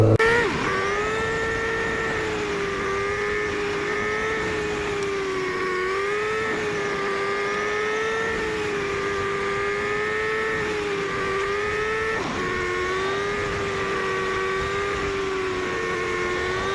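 A sports motorbike rides down Druidale, a country road on the Isle of Man, its engine droning loud and close in a steady tone that rises and falls gently as the rider works the throttle, with no talk.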